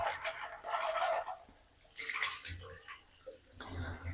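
A scalp massager brush is washed and rinsed under running water, the splashing rising and falling in several bursts, close and fairly quiet, with a voice talking intermittently.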